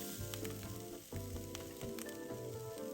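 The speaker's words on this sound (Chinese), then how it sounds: "炒至锅里食材溢出香气后，" Filling ingredients sizzle steadily as they are stir-fried in a hot pan, with a dense crackling hiss and intermittent scraping and clattering of the spatula stirring through the food.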